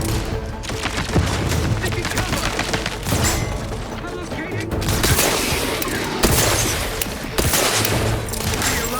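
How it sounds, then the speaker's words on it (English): Grenade explosions in the video game The Outer Worlds 2 boom repeatedly amid dense, continuous gunfire, giving a loud, chaotic battle din throughout. "Here he goes with his grenades."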